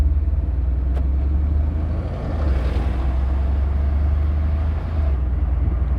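A 2014 Mercedes-Benz SL 63 AMG pulls away with a deep, smooth engine drone that rises and dips slightly through gear changes, steady and close throughout.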